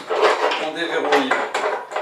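Metallic clanks and rattling knocks ring out as the gantry of a Mini Cut 2D+ CNC machine is unlocked, close and fairly loud, in a quick uneven series of impacts.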